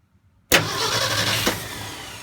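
A Ford F250 fitted with a Pertronix Flame Thrower II distributor catches after a brief crank, firing with a sudden loud burst and settling into a steady nearby idle with a small surge partway through.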